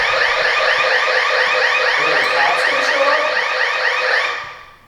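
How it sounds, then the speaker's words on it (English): A house alarm blares continuously at close range, a loud, steady electronic warble with repeating pulses that holds for about four seconds before cutting off abruptly. "The alarm is blaring."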